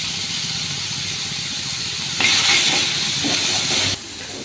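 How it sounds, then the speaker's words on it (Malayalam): Onions and curry leaves sauté in a hot pan with a steady hiss and sizzle. The sound surges louder for a moment midway, then settles back down. No voices are heard. "കുറച്ച് കറിവേപ്പില ഇട്ട് കൊടുക്കാം ഇത് നല്ലതുപോലെ ഒന്ന് വഴറ്റിയെടുക്കാം"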